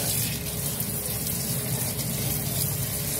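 Cold tap water pours steadily over boiled chow mein noodles in a kitchen sink, a continuous broad rushing splash that stays fairly loud and even throughout, with no talking.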